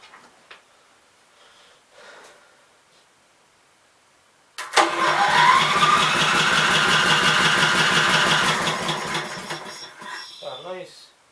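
A 16hp cast iron Briggs engine cranks and catches, then runs loud with a fast, steady chugging beat for several seconds before slowing and sputtering, after a few quiet clicks and rustles at the start.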